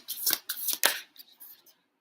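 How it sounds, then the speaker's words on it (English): Tarot cards shuffled in a few quick papery riffling bursts, close and moderately quiet, tapering into a faint trailing shuffle before silence. "Let's shuffle for one more card."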